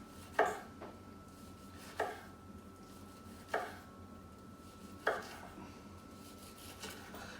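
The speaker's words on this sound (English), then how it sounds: "So we're gonna slice these. They're about 1/2 inch thick slices against the grain here." Knife slicing a seared New York strip steak against the grain into half-inch pieces on a board: four evenly spaced, close, crisp cuts with quiet pauses between and no talking.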